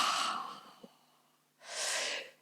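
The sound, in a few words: yawn during a stretching exercise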